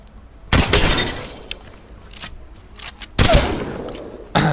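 Weapons are tested in Apex Legends, where shots hit an opponent's legs. Two loud, crashing bursts with a glassy, shattering edge ring out a few seconds apart, and quieter impacts and clicks fall between them.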